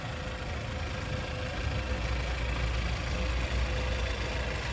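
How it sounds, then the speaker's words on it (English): A 2022 GMC Terrain AT4's 1.5-liter turbo engine idles with a low, even hum, steady and fairly quiet, heard close by without interruption. "I like the little hum that it has to it too"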